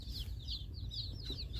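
Day-old baby chicks just delivered to a home peep and chirp in a continuous high, rapid chorus, close by, with no talking.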